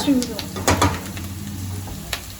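Onions fry in a pan with a steady sizzle while a spoon scrapes and stirs them, making a few clattering knocks, and a voice speaks over the cooking.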